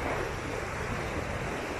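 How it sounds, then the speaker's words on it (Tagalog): Surf rolling in at Bagasbas Beach, moderate waves producing a continuous broad wash of surging water with some wind buffeting the microphone, steady and fairly loud with no voices. "Pero katamtaman lang yung alon."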